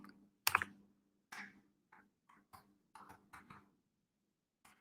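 Typing on a computer keyboard: scattered bursts of quiet key clicks come in irregular clusters, close to the microphone and faint, with gaps of silence between the taps.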